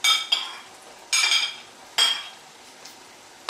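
A utensil scrapes and clinks against a bowl while mixing meat pie filling seasoned with salt and pepper, several separate stirring strokes, close and crisp, with quiet pauses between.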